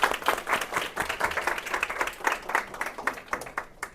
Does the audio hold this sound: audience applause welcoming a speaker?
yes